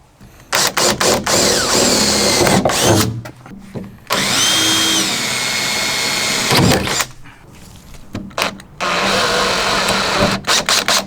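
A power drill pre-drills holes in a Chevy truck tailgate, whining loudly in several bursts of a few seconds each, split by short pauses, with no talking.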